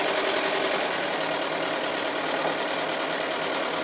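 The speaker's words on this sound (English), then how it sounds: "So just sewing the last side of my walls onto my block." A sewing machine stitches the last side of quilt block walls, running as a steady, loud, continuous mechanical whir throughout with no talking.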